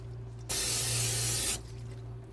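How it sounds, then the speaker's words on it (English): Cooking spray hisses onto a steamer basket in one close, loud burst lasting about a second, over a low steady hum that continues before and after. "I'm gonna put a little cooking spray, just that way they don't stick to the bottom"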